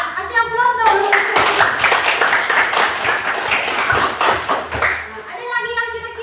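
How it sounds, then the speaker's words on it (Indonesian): A classroom bursts into applause, a few seconds of brisk, lively clapping with voices talking just before and after. "Iya, kasih aplaus dong."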